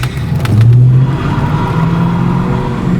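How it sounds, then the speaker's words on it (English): A Fox Body Mustang revs hard with a little wheel spin, its loud, close engine roar rising and then holding a steady droning pitch throughout. "a little bit of wheel spin"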